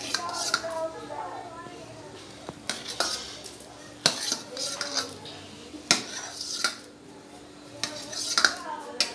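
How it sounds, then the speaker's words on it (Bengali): Fried eggs go into a pot of potato and red lentil egg curry, with a busy run of metal clinks, scraping and stirring against the pot while a person talks. "আমি সব ডিমগুলো দিয়ে দিচ্ছি।"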